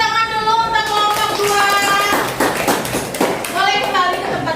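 Classroom applause for a student group after a science presentation: a burst of children clapping in a schoolroom, mixed with kids' chatter and voices over it for most of the span.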